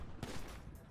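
A burst of gunfire in the video game GTA 5, a quick loud crack followed by a dense rattle, heard up close within under a second.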